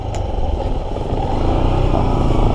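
A Honda XR150L motorcycle engine running loud and close on a rough farm track, a steady chugging rumble with slight revving, near a habal-habal motorcycle hauling wood.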